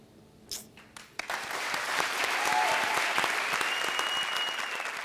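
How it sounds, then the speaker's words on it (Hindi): Studio audience applause on a TV comedy show after a performance, swelling from a few scattered claps into loud, sustained clapping that holds to the end. "तो सबसे पहले हमारे आज के सुपरस्टार किशोर के लिए जोरदार तालियां।"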